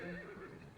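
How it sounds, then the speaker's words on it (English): A horse whinnies in the video game Reverse 1999, a brief close wavering neigh that rises and falls, set against faint background sound. "A horse indeed."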